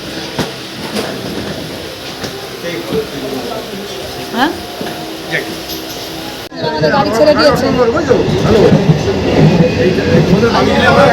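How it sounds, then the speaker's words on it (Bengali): A passenger train rolls along a station platform, its rumble and rattling wheels swelling sharply about halfway through and staying loud and close, with people talking over it throughout. "এই দেখো দৌড়াচ্ছে গাড়ি দেখছো"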